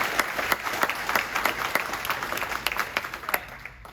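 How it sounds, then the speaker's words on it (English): An audience at a university robotics club callout gives a short round of applause, a steady patter of clapping hands that fades out at the end. "So another round of applause, please."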